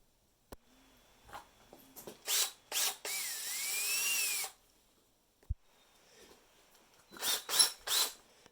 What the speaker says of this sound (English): drill a hole for the air intake valve in it